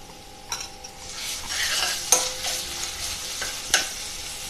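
Mushrooms frying lightly in a pan with ginger-garlic paste, a soft steady sizzle close by, broken by several spoon scrapes and clinks against the pan while being stirred.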